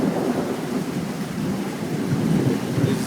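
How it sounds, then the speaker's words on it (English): Loud, deep thunder rolls continuously through steady rain in front of a house with trees nearby, a broad rumble that stays strong for about three seconds with no talking. "Whoa, big fucking thunder."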